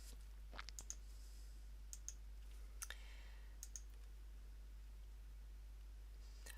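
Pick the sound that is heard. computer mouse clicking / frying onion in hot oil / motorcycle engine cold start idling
computer mouse clicking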